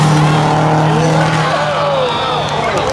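Street-legal Audi and Mustang drag racing at a spectator drag event at Beech Ridge: loud, continuous engine roar with rising and falling tones, heard throughout.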